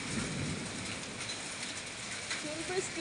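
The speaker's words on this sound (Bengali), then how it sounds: "শিলা বৃষ্টি হচ্ছে, শিলা বৃষ্টি হচ্ছে হচ্ছে।" A hailstorm with heavy rain gives a dense, continuous rushing hiss on surfaces, steady and fairly loud throughout, with faint indistinct sounds mixed into the wash.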